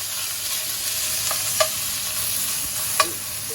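Bacon fries in a little oil in a preheated pan, a continuous close crackling sizzle marked by a couple of sharp pops and clicks.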